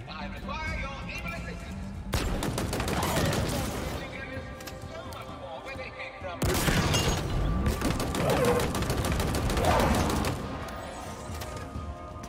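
Heavy weapon fire from the big gun in Halo Infinite erupts in two dense bursts of rapid booming shots, loud and close, with game voices speaking in between.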